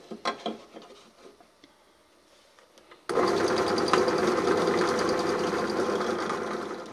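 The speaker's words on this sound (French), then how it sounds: "Donc là on va percer avec une mèche de 25, mèche à bois de 25, sur chaque emplacement." A power drill with a 25 mm wood bit starts boring through washers after a few seconds of faint handling knocks, then whirs loudly and continuously until the end.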